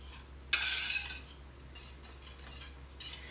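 A spoon stirs boiling strawberry balsamic jam in a pot, giving a sharp scrape followed by soft bubbling swishes and a second quieter stir near the end, over a steady low hum with no talk.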